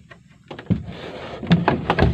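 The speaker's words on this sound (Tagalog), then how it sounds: "Ito ang kanyang pinto." A wooden door of a bamboo nipa hut is swung shut and opened again, giving a few close knocks and clatters with a soft sliding scrape between them.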